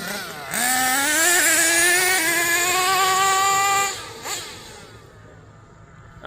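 A Kyosho USA-1 Nitro V2 RC monster truck's nitro engine screams at full throttle, a high buzzing whine that climbs in pitch through the gears, then cuts back and fades to quiet near the end.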